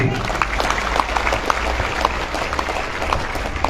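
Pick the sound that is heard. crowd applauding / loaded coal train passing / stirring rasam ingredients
crowd applauding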